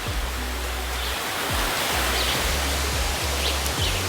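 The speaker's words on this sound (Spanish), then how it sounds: "Y miren la cascada por allá." A waterfall pours steadily as a broad, loud rushing wash of water, with a few low thumps underneath and no voices.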